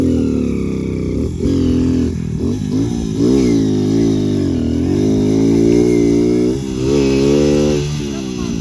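A motorcycle engine revs hard and steady close by, its pitch climbing and dipping through several pulls of the throttle, with no talk over it.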